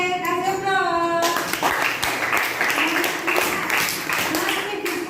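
A classroom of students breaks into applause after a brief voice, a dense patter of many hands clapping that continues steadily for several seconds, close and lively.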